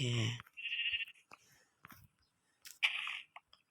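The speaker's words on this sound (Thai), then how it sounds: "เราเจอแกะนะครับ" Two short, high bleats from sheep in Minecraft, the first near 0.7 seconds and the second near 3 seconds, separated by a quiet stretch with faint clicks and scraping. A voice is heard briefly at the start.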